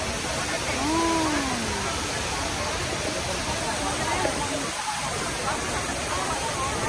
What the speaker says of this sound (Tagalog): Nalalaglag doon yung tubig?